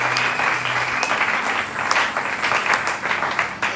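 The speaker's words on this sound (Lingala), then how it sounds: "Acclamons pour la gloire." A church congregation breaks into sustained applause during a Sunday service, loud steady clapping from many hands with a few cheers mixed in.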